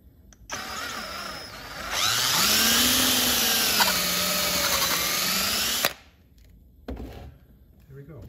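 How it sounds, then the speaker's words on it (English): A power drill whines steadily for a few seconds, pitch shifting slightly as it bites into metal, drilling out a stripped bolt hole on a small engine, then stops abruptly; faint movement follows. "Nice cleanly drilled hole, ready to be tapped."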